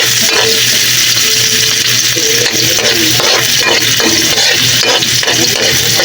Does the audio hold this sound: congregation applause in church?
no